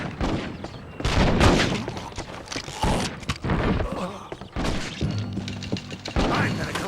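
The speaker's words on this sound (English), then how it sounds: "Stop him! Gun them down!" Gunfire from a shootout in the video game Red Dead Revolver, with loud repeated shots and heavy booming thuds in uneven bursts, mixed with raised voices and background game sound.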